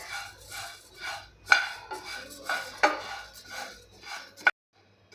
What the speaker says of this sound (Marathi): आता हे धणे आपल्याला खमंग असे भाजून घ्यायचे आहे